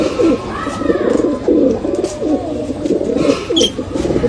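A pair of Saharanpuri desi pigeons coos almost continuously, loud and near, in repeated warbling throaty phrases, with a faint higher chirp briefly over them.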